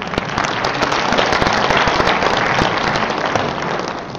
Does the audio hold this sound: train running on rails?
no